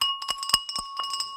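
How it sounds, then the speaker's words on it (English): Restrained ringing of the London Stock Exchange opening bell, a rapid series of bright metallic strikes with sustained tones, close and clear, with no voices. "it's a nice restrained bell"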